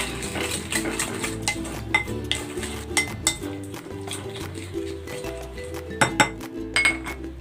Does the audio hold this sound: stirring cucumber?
yes